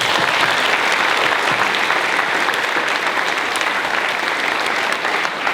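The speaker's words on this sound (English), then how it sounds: "Let's give them a round of applause, everyone." Loud, sustained applause fills a convocation hall, dense clapping from a large crowd holding steady throughout with no voices above it.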